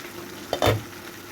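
Tilapia fish and potato sauté in a hot pan, a brief stir and sizzle rising in the middle of an otherwise quiet moment, close and fairly soft.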